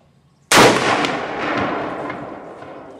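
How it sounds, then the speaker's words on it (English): A single loud rifle shot from a .30-06 firing a 150-grain bullet, a sharp crack out of near silence followed by a long rolling echo that fades over a couple of seconds. "we're going to take one more shot with the 30-06"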